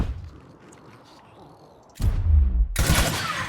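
A pistol shot in the turn-based strategy game Gears Tactics lands as a sharp blast with a heavy low thump, followed by a second burst of noisy impact, after a quiet lead-in.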